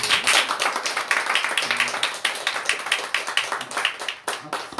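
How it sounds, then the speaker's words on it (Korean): A congregation at a church service gives a burst of applause to welcome a returning member, many hands clapping close and loud at first, then tapering into scattered claps. "박수로 환영합니다."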